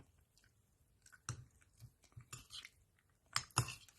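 Close, moist chewing and soft squishy bites while eating a Thai nam tok noodle soup with rice, irregular mouth sounds with a few sharper clinks and bites toward the end, no talking.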